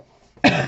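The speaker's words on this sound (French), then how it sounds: "Je suis vraiment désolée de tousser" A single short, sharp cough bursts out close by after a brief near-silent pause.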